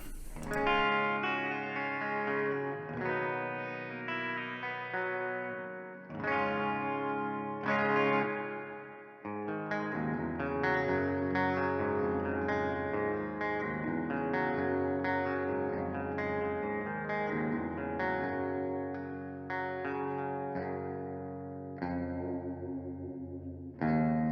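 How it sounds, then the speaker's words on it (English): Clean electric guitar strums chords and picks notes through a modeled Fender Princeton Reverb amp, warm with a shimmering reverb tail, steady and continuous with no voices. "that's an actual Fender Princeton reverb"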